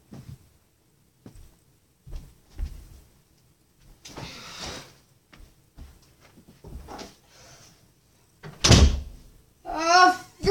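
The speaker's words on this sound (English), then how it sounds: "I'm closing the door." A door in a home slams shut with a sharp loud thud, following scattered quieter knocks and bumps, with brief voices nearby.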